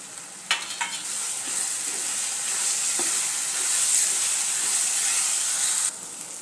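Onion and finely chopped capsicum fry in a pan, giving a continuous close hissing sizzle with a few clicks from stirring near the start, and no talk.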